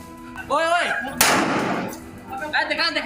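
A single sharp gunshot from a country-made pistol bursts out, loud and close, amid shouting and abuse outside a lawyer's family home in Bharatpur, with a muffled, broadcast-like quality and a short echoing tail.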